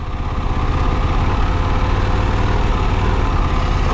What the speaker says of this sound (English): That's so odd that it's revving up.